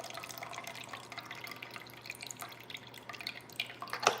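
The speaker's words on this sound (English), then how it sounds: "I love the pouring of that good juice." Freshly made celery juice is poured into a container, giving a soft trickling stream with scattered drips and small splashes that grow a little louder near the end, under a steady low hum.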